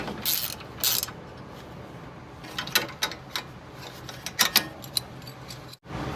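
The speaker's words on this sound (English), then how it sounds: "I'm going to start with just a stubby ratcheting wrench, and that'll help me go a little bit quicker" Stubby ratcheting wrench turning a bolt on a Toyota Highlander during a CV axle job, with bursts of quick clicking ratchet strokes and metallic creaks, close and without talk.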